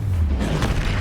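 A spell cast with a deep booming burst in Hogwarts Legacy, a low rumbling impact that fills the whole short moment at steady loudness.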